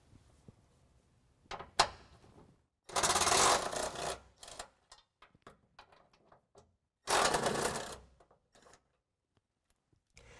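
Power ratchet or impact tool spinning a 15mm socket on rear bumper bolts of a 2020 Ram 2500, two loud buzzing bursts of about a second each, separated by quiet clinks and handling noises.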